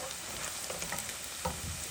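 Quiet, steady sizzling of onions frying in oil until browned, with occasional soft stirring scrapes, no voices.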